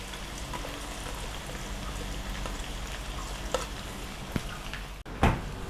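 Onion, garlic and chili sizzle steadily in hot oil in a pan for kadhi, a constant close frying hiss with a few clinks and stirring knocks near the end, no talk.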